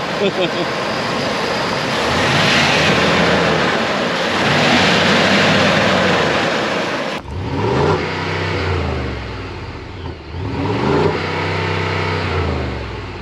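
A 2023 Ford Super Duty pickup's 6.8-liter V8 engine rumbles loudly, revving up and easing off in long swells, with a deep throaty idle pulsing through the second half.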